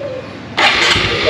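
A motorbike engine kicks into life abruptly partway through, switching off and starting again on a Vietnamese family's bike in Japan, then runs loud and close with a rough, steady roar after a quiet lead-in.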